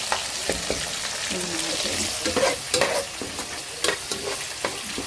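Tender young okra frying in a pan for a Rayalaseema-style chicken okra stew, a steady close sizzle with repeated scraping and stirring strokes and occasional louder clinks against the pan.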